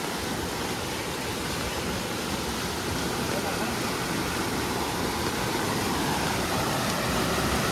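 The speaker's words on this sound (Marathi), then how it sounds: "आज मस्त पाऊस पडलाय. तर धबधबा पण मस्त भरलाय." A village waterfall in the Konkan jungle, swollen after heavy rain, roars as a constant broadband rush of falling water, loud and unbroken throughout with no voices.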